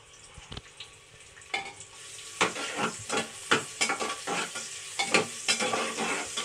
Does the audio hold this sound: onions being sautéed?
yes